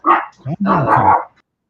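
A dog gives a few close, loud barks in quick succession, sharp and clear against an otherwise quiet room.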